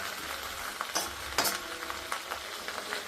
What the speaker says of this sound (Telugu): ఇలా ఒకసారి కింద నుంచి పైకి మొత్తం అనేసి మాడకుండా